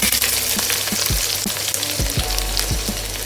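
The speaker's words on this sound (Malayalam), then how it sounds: "ഇനി ഞാൻ ഇതിലേക്ക് ഇട്ട് കൊടുക്കുന്ന മീഡിയം സൈസിലുള്ള 3 സവാള ചെറുതായിട്ട് സ്ലൈസ് ചെയ്തത്" Thinly sliced onions fry in hot oil in a pan for a Kerala-style country chicken curry. A steady, close sizzle runs throughout, with soft stirring scrapes and dull knocks against the pan.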